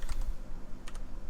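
Quick, light keystrokes on a computer keyboard as code for a factorial function is typed, a few soft clicks in short bursts with a pause between, close and quiet with no talking.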